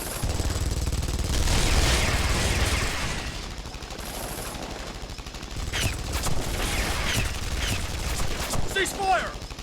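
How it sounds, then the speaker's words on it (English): Gunfire erupts in an animated Guilty Gear Strive story cutscene, a loud dense burst of rapid shots at the start that fades into quieter scattered impacts and effects. "Open fire!"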